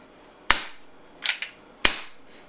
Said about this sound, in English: Let's take some empty shots and see how it sounds.